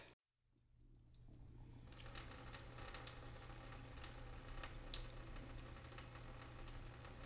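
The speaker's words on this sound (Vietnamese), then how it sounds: "bên tai nghe thấy tiếng nước chảy tí tách từng giọt" Water drips drop by drop as a ghost story sound effect, giving soft, spaced ticks roughly every half second to a second over a faint, steady hiss.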